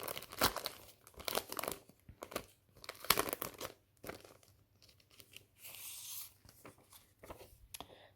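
A paper cross-stitch pattern sheet is unfolded with soft, close crinkling and rustling that comes in short bursts and rubs, faint and alone.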